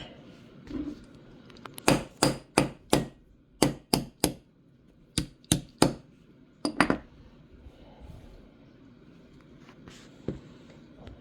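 Punch being hammered to drive the firing pin out of a filthy, broken 75-year-old Ithaca Model 37 20-gauge pump shotgun: about a dozen sharp, close metallic taps in quick groups, then a single later tap.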